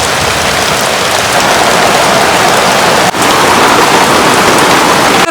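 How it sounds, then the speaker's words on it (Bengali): Heavy rain pouring down hard, a dense, loud, unbroken hiss of drops hitting surfaces close by, sustained at full strength throughout with only a brief momentary dip. "কিরম জোরে বৃষ্টি আছে দেখছেন কি?"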